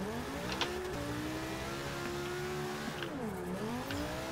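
A car engine revs steadily during a long drift in Forza 6, holding a constant buzzing drone that dips and rises again near the end, with faint tire noise.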